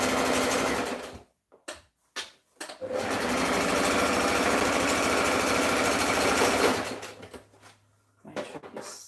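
A sewing machine running close and loud as it stitches a dress seam, with a few short start-stop bursts followed by a long steady run and then a brief final burst.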